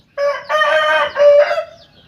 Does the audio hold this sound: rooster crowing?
yes